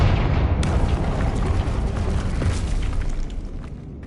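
The Confringo fire spell from Hogwarts Legacy goes off as a loud, sudden burst. It becomes a sustained, roaring explosive rumble that fades slightly near the end.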